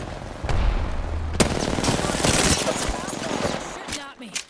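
Rapid video game gunfire rattles in loud bursts, with booming impacts and a sharp crack, while a voice speaks under the shooting.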